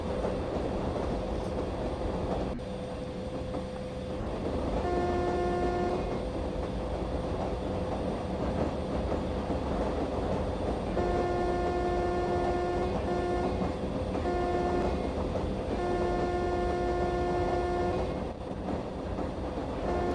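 The Karnataka Express rumbles steadily along the rails, a continuous near roar with rhythmic rail noise and several sustained horn-like tonal blasts recurring through the run.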